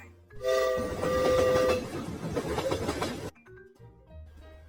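A train whistle sounds briefly, then a loud rumbling, rattling rush of rolling wagons, ending abruptly; quiet music plays underneath.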